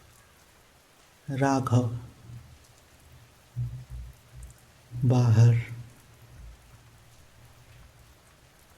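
Light rain patters softly and steadily on a roof, a faint continuous hiss of drops running beneath two short bursts of a narrating voice.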